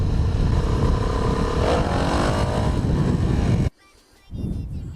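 A 2008 Suzuki DRZ 400 motorcycle revs hard and loud for a wheelie attempt, its engine note rising and roaring under wind rush, then cuts off abruptly before a lower rumble returns.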